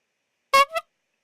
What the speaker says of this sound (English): We'll add the clown honk that comes with it.